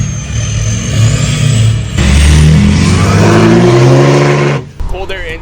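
Lifted, fully deleted diesel truck with an 8-inch exhaust stack, cold air intake and EGR and DPF delete, revving loud and close in a rising, sustained roar that drops off abruptly near the end.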